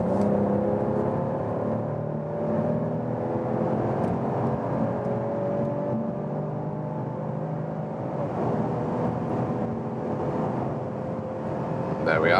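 A Mercedes CLS 450 facelift (2022) accelerates hard in Sport Plus mode from about 100 km/h, a steady droning engine and road roar holding loud throughout with a slowly rising pitch, as if heard from inside the cabin.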